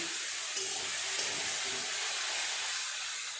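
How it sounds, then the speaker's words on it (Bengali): Drumstick flowers and eggplant frying in a pan after the lid comes off, giving a steady, fairly loud broadband sizzle and hiss throughout with no talk. "এবার ঢাকাটা খুলে ভালো করে নেড়ে দেবো।"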